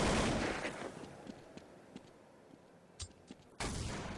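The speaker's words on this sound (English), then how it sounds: "Nades flurrying across." Grenades going off in the Counter-Strike 1.6 video game during a 2008 match: a heavy blast fades out, scattered thuds and pops follow, and a sharp burst hits near the end.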